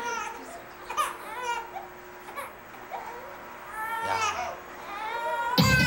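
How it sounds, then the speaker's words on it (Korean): A baby cries in intermittent wails and whimpers at close range, with short pauses between bursts and a brief adult voice near the end. "울음을 그치는가 싶더니"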